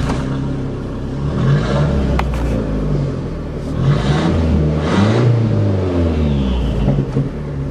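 A Shelby Aries wagon on its first test drive around a farm after fuel pump and fuel line repairs revs its engine in a loud, close, throaty rumble that rises and falls in pitch, with no voices.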